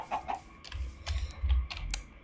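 Computer keyboard keys tap a few times at close range during a Minecraft survival game, with brief clicks scattered over soft background game noise including chicken clucks.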